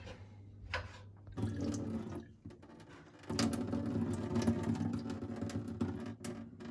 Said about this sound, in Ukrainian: З горошком щось робить, зливає воду.